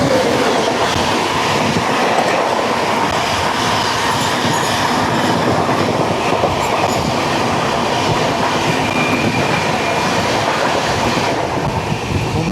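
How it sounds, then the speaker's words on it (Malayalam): The Mumbai LTT–Secunderabad Duronto Express rushes past on Indian railway track with a continuous loud roar of wheels and steady clickety-clack for the whole stretch. "മുംബൈ LTT സെക്കന്ദരാബാദ് ദുരന്തോ എക്സ്പ്രസ് ആയിരുന്നു അത്."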